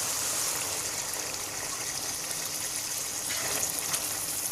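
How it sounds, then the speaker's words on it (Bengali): Hot water pours into a pot of country chicken curry in a steady, continuous gushing stream, fairly close and unbroken with no talk. "দেশি মুরগির মাংস সিদ্ধ হতে একটু সময় লাগে, তাই আমি আর একটু গরম পানি দিয়ে দিচ্ছি"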